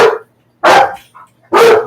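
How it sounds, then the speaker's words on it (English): A dog barks three times indoors, loud and close, each bark sharp and brief with short gaps between them. "Don't bark at me."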